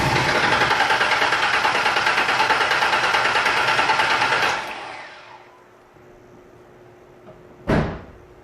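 A car engine cranks over steadily without starting during a spark check on a no-start fault, a rapid rhythmic churn for about four and a half seconds that stops, followed by quiet and a single sharp knock or slam.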